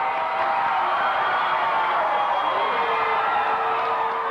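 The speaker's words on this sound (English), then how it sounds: "Let me go audio up here for a second so we can hear the crowd." A wrestling event crowd roars in a steady, dense wall of cheering and shouting that holds at full volume throughout, with no single voice standing out.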